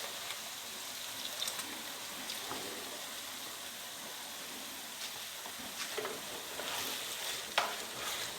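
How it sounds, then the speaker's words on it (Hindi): Tomato sauce with a splash of water being stirred in a pan for spaghetti Bolognese, giving a steady close-up sizzling hiss with faint scraping strokes that grow slightly busier toward the end. "थोड़ा सा पानी डाल दिया इसमें, ऐसे हिला लेंगे कि सारा जो बीच में है वो भी निकल जाए।"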